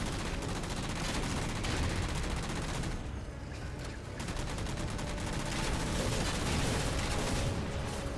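Rapid bursts of binary rifle fire in the Halo Spartan Ops game pound continuously and loudly, dense and unbroken, with a brief lull near the middle before the barrage resumes.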